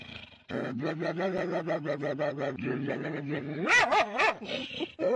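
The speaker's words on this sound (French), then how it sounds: "il s'arrête, il écoute le chien aboyer" A dog barks and yips in a quick run of sharp, close calls, rising into higher whining, excited yelps near the end.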